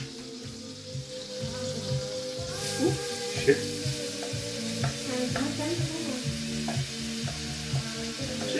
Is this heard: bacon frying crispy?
yes